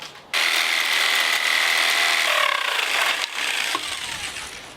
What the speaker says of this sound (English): Looks like we're gonna have to use a power tool